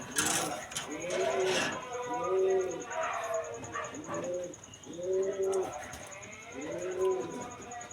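A female pigeon coos in a pigeon seller's collection, giving a steady series of soft, rounded, rhythmic calls close by, with a thin high steady tone running behind and some background voices.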